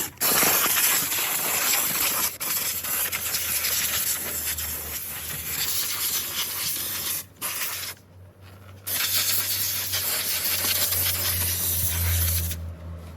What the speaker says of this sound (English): we're gonna steam it